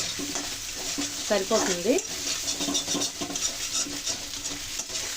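Restaurant-style Chinese egg fried rice sizzles in a pan while being stirred, with scraping, clinking strokes and a steady fry under a speaking voice.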